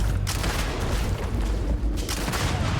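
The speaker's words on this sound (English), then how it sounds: "Shotguns really do make things easier, don't they?" Shotgun fire during a Starfield firefight, heavy repeated booms layered over a constant rumble of battle noise, loud and close.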